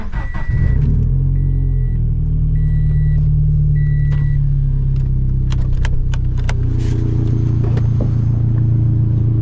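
A turbocharged 400 hp Toyota FR-S with a built FA20 engine turns over and settles into a deep, steady rumbling idle, with a few soft electronic chimes early on.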